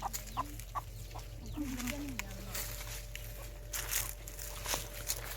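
Soft clucking from hens, faint and somewhat distant, with a steady low hum and light rustling in the background.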